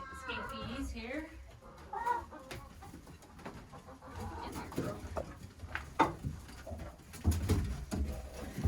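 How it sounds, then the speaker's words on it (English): Chickens inside a hatchery coop, Lavender Orpington among them, cluck and squawk at close range in scattered bursts, with quiet background chatter from people. "Chickens wanting to escape?"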